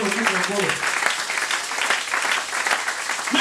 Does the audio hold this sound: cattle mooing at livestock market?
no